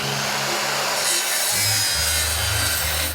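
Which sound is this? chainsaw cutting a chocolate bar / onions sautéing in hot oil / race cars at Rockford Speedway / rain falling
chainsaw cutting a chocolate bar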